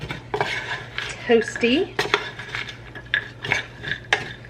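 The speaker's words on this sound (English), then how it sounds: "Then I'm just gonna stir this up" Food stirred in a pan after a sprinkle of sea salt, with a series of close metallic clinks and scrapes of a utensil against the pan and a soft faint sizzle underneath; a voice speaks briefly.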